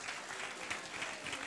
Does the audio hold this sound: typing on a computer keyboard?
no